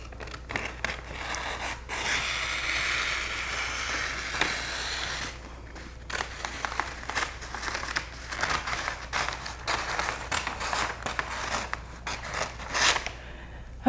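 Scissors snip and slide through gift wrapping paper during holiday present wrapping, a run of crisp crinkly cuts with short pauses between them, close up and with no talking.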